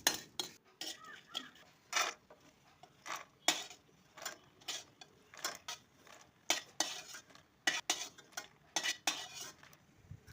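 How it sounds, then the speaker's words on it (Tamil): Cardamom pods dry-roast in a pan for biryani masala, with repeated metallic scrapes and clinks of a spoon stirring against the pan in uneven bursts, quiet and close, no talking. "இப்போ நம்ம ஏலக்காவை வறுத்து எடுத்துக்கலாம்."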